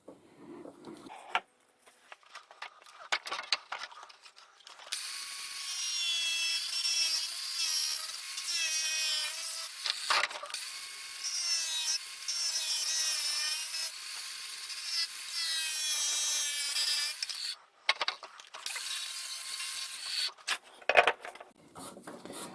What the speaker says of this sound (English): I'm only using a 1mm slitting saw for that, nothing extraordinary